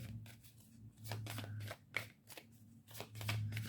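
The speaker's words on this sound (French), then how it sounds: "Alors ce qu'on va faire, c'est que je vais du coup les mélanger." Oracle cards being shuffled close up, a series of quick crisp riffling and flicking strokes in a steady rhythm, soft and alone with a faint hum beneath.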